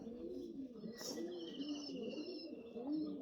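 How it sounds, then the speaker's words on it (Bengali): A pair of racing tournament pigeons cooing softly and close by, with low repeated throaty coos over a quiet background. "এই হচ্ছে এক জোড়া কবুতর"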